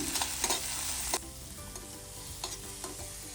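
Curry leaves, tomato pieces and green chilies frying in a little oil, a bright sizzle that drops to a quieter crackle partway through, with occasional stirring clicks, heard close and alone.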